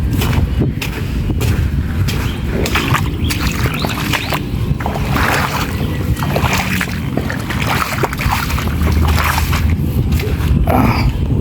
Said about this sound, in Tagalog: maraming putok pa rin po.